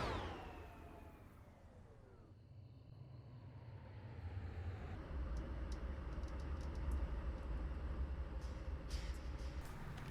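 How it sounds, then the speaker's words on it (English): A train in Train Simulator 2021 rolls through on its own, a steady low rumble that grows louder partway through and then holds, with faint high metallic squeals above it and no talking. "So that train is driving itself with its consist to that waypoint, to that map point."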